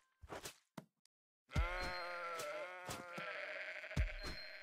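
Sheep in a house-building video game bleat in short loud cries, a couple of brief calls then a long wavering bleat followed by more, close and alone.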